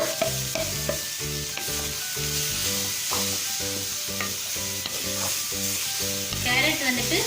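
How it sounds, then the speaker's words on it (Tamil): Carrots frying in leftover ghee for carrot laddu, with steady sizzling under repeated rhythmic stirring and scraping of a spoon in the pan, close and continuous. "அதே நெய் இருக்கும் பாருங்க மீதி, அதுல நம்ம வச்சிருக்க கேரட் போட்டுடலாம்."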